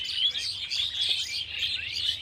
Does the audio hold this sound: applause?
no